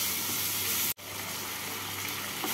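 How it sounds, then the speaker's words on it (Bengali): Prawns sizzle steadily in hot oil, a close continuous hiss broken only by a very brief cut near the start. "চিংড়ি মাছগুলোকে হালকা করে ভেজে নিচ্ছি"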